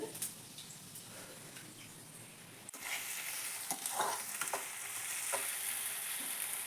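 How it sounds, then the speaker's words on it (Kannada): Green chilies and onions fry in a pan for upma, a steady close sizzle and crackle that swells louder after a sharp clink partway through, with occasional stirring scrapes. "ಹಸಿಮೆಣಸಿನ್ಕಾಯಿ ಉಳ್ಳಾಗಡ್ಡಿ ಎಲ್ಲ ಹಾಕಿ ಇದು ಇದಂತರ ಮಸ್ತ್ ಕುದಿಲಿ"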